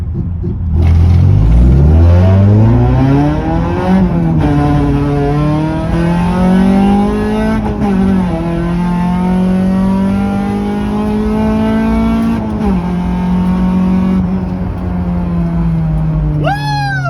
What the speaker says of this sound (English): next race is against Sam's modified FN2 Type R